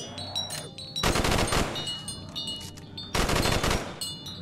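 A shotgun fires in Call of Duty Zombies played in VR, two loud separated blasts, each with a ringing decay, over a low game background.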